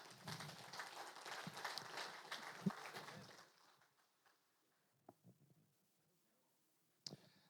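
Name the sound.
audience applause welcoming the speaker Nemo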